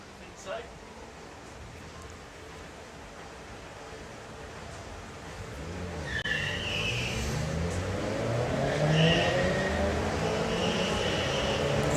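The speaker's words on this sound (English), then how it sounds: "I was waiting for the Focus to pull away, but the Corsa has pulled it back." A Vauxhall Corsa and a Ford Focus accelerate hard down a drag strip at a street car event, the engine roar building from faint to louder as they pull away, with a commentator talking throughout.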